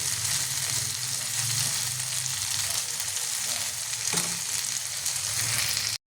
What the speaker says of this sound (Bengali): মাছগুলো আমি ভালো করে ফ্রাই করব